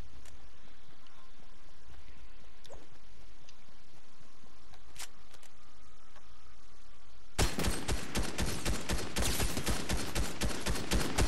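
Rapid bursts of gunfire from the Fortnite video game erupt loudly in the final few seconds, following a quieter stretch of faint game ambience and scattered clicks.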